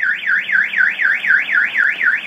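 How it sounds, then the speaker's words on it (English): An Autopage basic alarm fitted to a 2009-2017 Dodge Ram pickup wails with a loud, close, steady rising-and-falling siren, about four sweeps per second, with no voices present. "If someone hits the truck, pries open any one of the doors, it'll fire off the alarm system."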